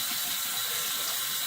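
Cold water pours steadily from a tap for rinsing during a wet shave with a Kamisori straight razor, a constant close hiss of running water with no talk.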